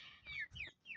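Chickens at a home poultry setting give several short clucking calls in quick succession, fairly close and moderately loud, with no talk over them.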